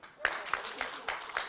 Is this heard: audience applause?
yes